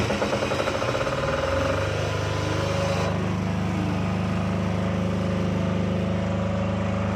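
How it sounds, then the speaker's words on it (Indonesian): A Krisbow KRPD40 diesel generator starts automatically, with a brief pulsing crank that catches and settles into a steady, loud, close diesel drone that runs on alone without talk. "ini gensetnya akan otomatis menyala. Tunggu delay dulu sekitar 10 detik nih, maka dia akan otomatis starter."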